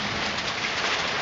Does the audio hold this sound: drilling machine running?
no